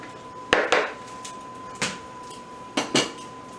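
Grilled vegetables tossed in a bowl, giving a few sharp clatters and scrapes of utensils against the dish in short separate bursts, close and moderately loud with quiet gaps between.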